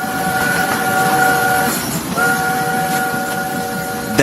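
A train with a steam-style whistle and rolling railcar noise, serving as a sound effect in an audiobook: a steady loud rumble carrying sustained whistle tones that break briefly near the middle and then resume, with no talking.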